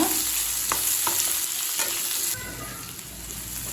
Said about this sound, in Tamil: வெங்காயத்தை நல்லா பச்சை வாசனை போக வதக்கிக்கலாங்க